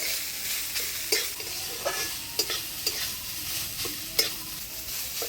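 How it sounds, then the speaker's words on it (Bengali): Vadal pieces with turmeric and salt stirred and frying in a pan, a steady soft sizzle broken by repeated scraping stirs at irregular intervals, close and alone. "হলুদ লবণ দিয়ে ভাজালটা ভালো করে নাড়াচাড়া করে নিলাম।"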